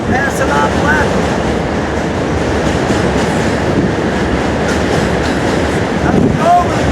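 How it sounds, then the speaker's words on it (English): A New York subway train passes close by near a bridge, a loud continuous rumble and rattle of wheels on track with brief metallic squeals, heard from a moving tour bus. "subway train passing on the left"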